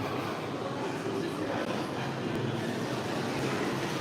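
A steady, loud rumble of the theme park train running between Hogsmeade and Diagon Alley, continuous and enclosed, with faint voices in the background.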